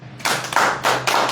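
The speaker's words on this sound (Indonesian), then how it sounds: "Tepuk tangan" Clapping in a crowd at a religious lecture: four quick bursts of handclaps in an even rhythm, fairly close and bright.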